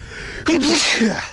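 A single sharp sneeze bursts out close by outdoors on a fishing trip, after a moment of quiet background noise, followed by a short voiced tail.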